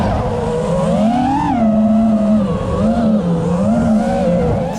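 Custom FPV freestyle quadcopter motors on a first flight give off a loud, close, continuous buzzing whine. The pitch swoops up and down as the throttle changes, and no voices are heard.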